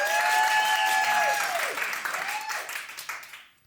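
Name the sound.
audience applause at a live show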